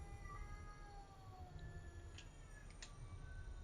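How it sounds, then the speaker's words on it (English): Several cats yowling and caterwauling outside a window, faint drawn-out wavering cries over a steady low hum, with a couple of short sharp squeals. "There's loads of cats outside my window."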